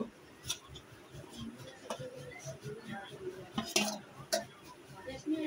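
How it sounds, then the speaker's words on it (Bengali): Boiled potatoes are mixed into chotpoti, with light clinking and scraping of a utensil against the pot under quiet talking. "সবকিছুর সাথে মিক্স করা হচ্ছে সিদ্ধ আলু"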